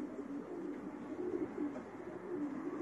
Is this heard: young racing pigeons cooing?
yes